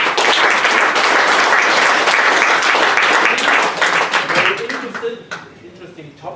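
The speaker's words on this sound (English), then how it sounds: "I want to wrap it and give him a hand of applause." Audience applause for the speaker at a microservices meetup in Munich, loud dense clapping from a roomful of people that thins out and fades over the last two seconds.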